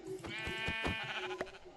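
A Minecraft sheep bleats in a few wavering, nasal calls close by, fairly loud and continuous over a short stretch, with no talk.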